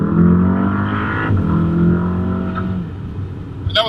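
A Volkswagen Golf R MK7 with 350 horsepower on winter tires accelerates hard, its engine note rising steadily and loud from close by with no talk, ending in a brief sharp transient.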